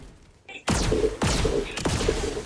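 A Star Wars blaster fires in Fortnite, giving three loud, sharp shots in quick succession, each with a fast descending zap tail, close and dominant over faint background sound.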